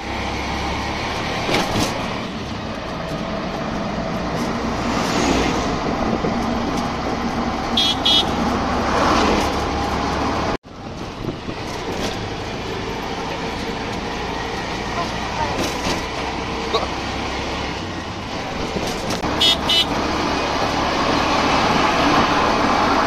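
Riding in a CNG auto-rickshaw through traffic in Sylhet toward Bholaganj: a constant loud engine and road rumble, repeated car horns honking nearby and in the distance, and occasional voices.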